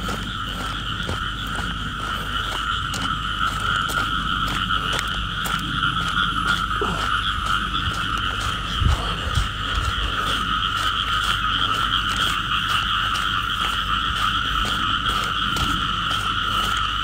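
Frogs croak steadily at night on a Malaysian hill, a dense, continuous chorus of pulsing calls that fills the whole stretch without pause, with no talk over it.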